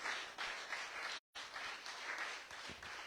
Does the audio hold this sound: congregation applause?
yes